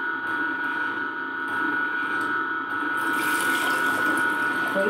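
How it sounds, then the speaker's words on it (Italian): A cold press juicer runs with water inside for a quick rinse, giving a loud, steady mechanical whir with a sustained tonal hum and sloshing water, and the hiss grows brighter in the last seconds, with no talking. "Basta semplicemente inserire dell'acqua, farlo funzionare e poi abbiamo un lavaggio veloce. Quindi lo si fa girare un po'."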